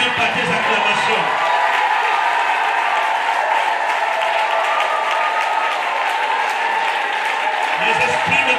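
A church congregation applauds and cheers loudly in a continuous wash of clapping and crowd noise. It fills the room evenly, with voices mixed in.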